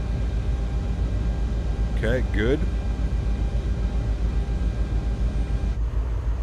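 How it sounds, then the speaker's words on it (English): Steady, even engine drone from the twin jet engines of an Aerosoft CRJ900 in Microsoft Flight Simulator, a constant hum that runs through the whole stretch while a voice briefly speaks over it. "Sounds like we got two good engines"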